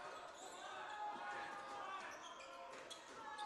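A basketball bounces on a gym court during a Gordon State College versus South Georgia Tech college game, faint and steady under crowd noise and a commentator's voice.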